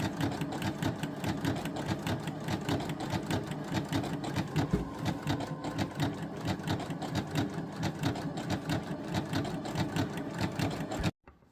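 Sewing machine zigzag-stitching along a shirt hem, a fast rhythmic mechanical chatter running continuously and close at hand, stopping abruptly at the very end.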